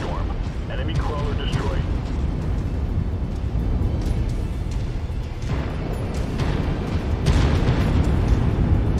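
A crawler mech blown apart in MechWarrior 5: Mercenaries, with a dense, continuous barrage of booming explosions and weapon blasts filling the whole stretch, loud and close, and heavier bursts near the end.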